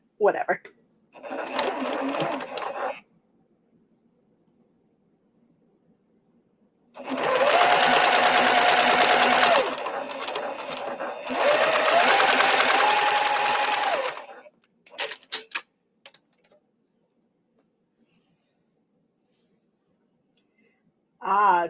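A sewing machine stitching a baby quilt in bursts: short runs, then two long sustained runs of rapid whirring stitching, separated by quiet pauses and brief mechanical clicks.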